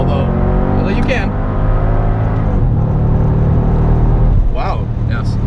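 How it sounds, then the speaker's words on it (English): Mercedes SL55 AMG engine heard from inside the car, a loud steady rumble that rises in pitch under acceleration, with people talking over it. "You don't really have to rev this engine out, although you can."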